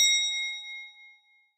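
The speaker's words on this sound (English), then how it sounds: "You heard the bell." A single bell strike rings out clearly, its pure metallic tone slowly fading away over a second and a half.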